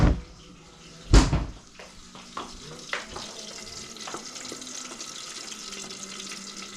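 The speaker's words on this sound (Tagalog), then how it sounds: "huhugasan ko na ito." Tap water runs steadily with clinks and clatters of dishes being handled, one louder knock near the start.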